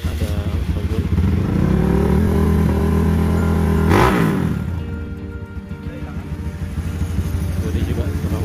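Trail motorcycles, including a Yamaha 155, pushing through dense forest in Kabupaten 50 Kota, engines revving and clattering up close, one pitch swell around the midpoint, then a dip and steady revving again.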